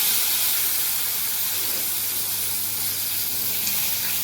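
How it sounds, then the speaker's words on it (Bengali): Pointed gourd frying in hot oil, a loud, steady hissing sizzle that stays even throughout with no voices over it. "এবার পটল ভাজতে হবে"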